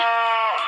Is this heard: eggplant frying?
no